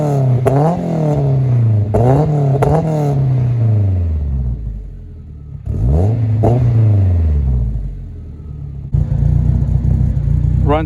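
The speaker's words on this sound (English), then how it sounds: "I'm gonna let it warm up a little bit and I'll give you guys a couple revs." A 500-horsepower Honda S2000 engine is revved in neutral, with several sharp throttle blips that rise and fall back to a rumbling idle, loud and close, with pauses between the bursts.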